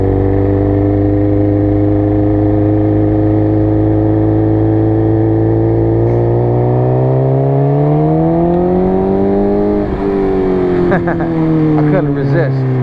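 A motorcycle engine is held in first gear during a beginner riding lesson, giving a loud, steady, close-up drone that swells and rises in pitch near the end as the throttle opens.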